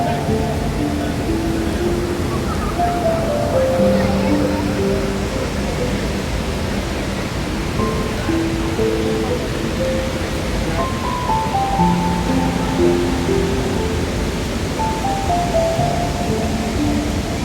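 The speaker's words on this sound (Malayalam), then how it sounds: "മഴക്കാലം കഴിഞ്ഞതിനാൽ അതിശക്തമായ വെള്ളച്ചാട്ടമാണ് കാണുവാൻ സാധിക്കുന്നത്" Athirappilly waterfall roars after the monsoon, a loud and unbroken wash of crashing water that fills the whole stretch. Faint voices of people can be heard under it.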